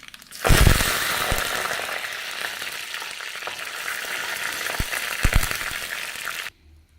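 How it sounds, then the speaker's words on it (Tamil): Mustard seeds, fenugreek, curry leaves and dried red chillies hitting hot home-pressed coconut oil, a sudden loud burst of sizzling and spluttering pops that holds steady for about six seconds, then cuts off. "எண்ணெய் சூடாயிடுச்சுங்க கடுகு வெந்தயம் கருவேப்பிலை வரமிளகாய் போட்டு தாளிச்சிக்கலாங்க"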